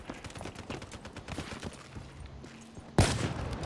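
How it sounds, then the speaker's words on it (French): Gunfire in Call of Duty: Black Ops 3 multiplayer, a run of quick rattling shots over game background noise, ending with a louder sudden burst near the close. "j'y ai tiré 4 balles, bah non y'en a aucune qui est passée"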